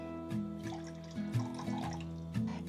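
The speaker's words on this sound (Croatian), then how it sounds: "Ja ću da koristim čaše i sipam negdje centimetar i po čiste vode." Clean water is poured into drinking glasses for storing fresh herbs. Faint liquid trickles and splashes come in a few short bursts over a steady low hum, close by and quiet.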